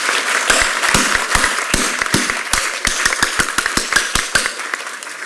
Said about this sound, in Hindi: अरे फिर मारा ताली.